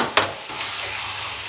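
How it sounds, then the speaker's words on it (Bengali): Spices and raw jackfruit kofta mixture sautéed in a pan, a short scrape of stirring followed by an even close sizzle. "একটু সাঁতলে নেব যাতে মশলাগুলো ভাজা হয়ে যায়।"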